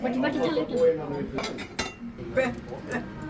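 Utensils and dishes clink and clatter as food is served at a Christmas dinner in a Swedish family home, scattered sharp taps and scrapes close by under steady talking voices.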